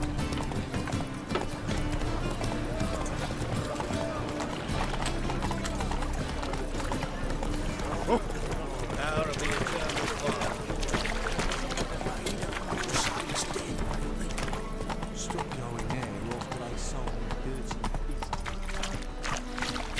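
Roach the horse galloping in The Witcher III video game, steady rhythmic clip-clop of hooves throughout, close and continuous, with voices and game sounds layered over the running.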